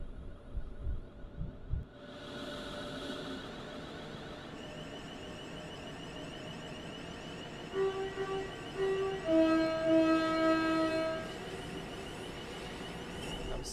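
A sound-modded train runs in Train Sim World 4 with a steady low rumbling hum and throbbing, joined partway through by sustained horn-like tones that rise and hold before fading back into the engine drone.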